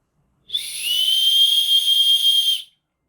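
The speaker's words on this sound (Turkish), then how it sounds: "Aynı zamanda da bir düdüğü var. Hemen düdüğünü de gösterelim size." A loud, shrill whistle from a small 7-function multi-purpose pocket tool sounds once and holds steadily for about two seconds, then stops cleanly, with nothing else around it.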